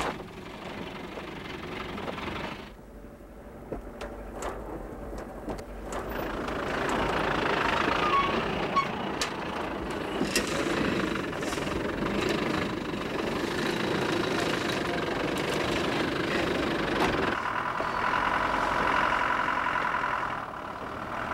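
A 1995 Land Rover engine labours along a rough, rocky, roadless track, a continuous low rumbling drone that grows louder and more strained after the first few seconds, with knocks and jolts over the terrain.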